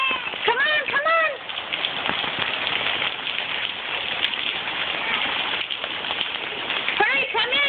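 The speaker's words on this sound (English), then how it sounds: "Oh no, it's raining hard." Heavy rain pours steadily onto surfaces outdoors, a dense continuous hiss throughout, with children's voices chattering over it at the start and end.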